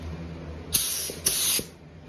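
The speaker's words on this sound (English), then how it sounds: "Usually I'll spray right here. This time I'm gonna spray higher." Spray paint applied to a 1969 Camaro car panel: two distinct hissing bursts of spray, the first short and the second longer, close and loud against a quiet low room hum.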